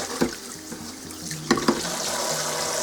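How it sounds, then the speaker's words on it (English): Food containers are rinsed under a running tap to wash off stains, a steady rush of water with a few clunks and knocks as the containers are handled. "That's how easy it is to wash them and get all the stains off them from the food."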